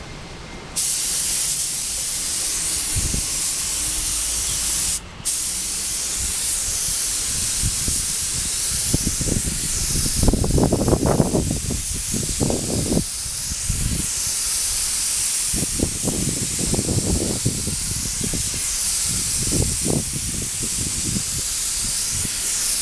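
A compressor-driven spray gun hisses steadily as paint is laid onto a Suzuki trackbike fairing under repair, a continuous close airy spray broken by a brief pause, with soft thumps and handling noises beneath.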